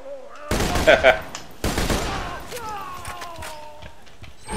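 Gunfire in the video game Borderlands 2 erupts in two loud, rapid bursts of shots up close, the second trailing off into ringing and mechanical clatter while a voice speaks faintly.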